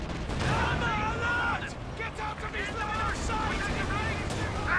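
Gunfire from Company of Heroes 2, an MG34 machine gun among the weapons, crackles in bursts under steady battlefield din while a commentator talks over it throughout.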